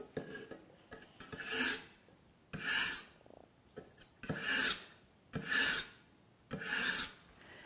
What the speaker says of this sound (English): I will focus only on the fine slot to make sure I realign that blade. Probably about 5 to 10 pulls.